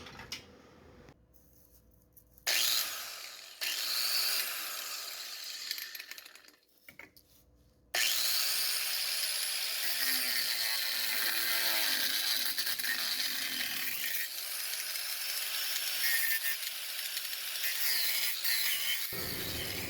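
A bolt is cut out of the rear suspension of a 1967 Mustang during leaf spring and shock replacement, with a few short grinding bursts and then a long, loud, continuous cutting whine.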